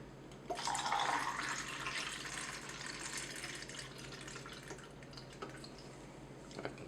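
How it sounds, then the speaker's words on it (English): Film developer poured into a developing tank already holding water, a steady close liquid pour with splashing and trickling, loudest at the start and then settling into a softer continuous flow. "And then we're going to pour in the developer."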